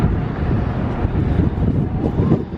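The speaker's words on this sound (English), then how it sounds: "it's very, very windy" Strong wind buffets the microphone on the open deck of the Virgin Voyages cruise ship Valiant Lady, a steady loud low roar with gusty swells and no voices.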